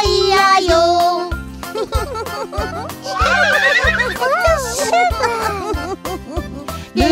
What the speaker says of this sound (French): Et dans sa ferme il y a un cheval